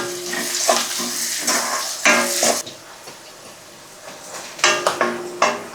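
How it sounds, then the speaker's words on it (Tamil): Onions and vegetables for karuvattu kuzhambu sautéing in a pan, with loud sizzling bursts broken by scraping stirs and clinks of the pan, then a quieter stretch before more sizzling. "இப்போ நல்லா வதக்கி விடுங்க"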